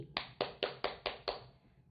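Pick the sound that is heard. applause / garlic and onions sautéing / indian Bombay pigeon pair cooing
applause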